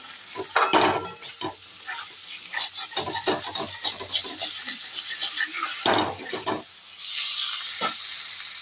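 Thinly sliced potatoes and spices fry in a pan as they are stirred, giving a steady sizzle with repeated scraping and rubbing strokes throughout, close and continuous.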